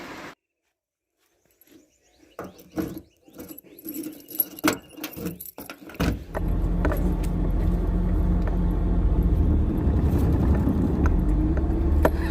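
Car keys jangle in a scatter of close metallic clinks and rattles. Then a car engine starts and settles into a steady, loud idle rumble.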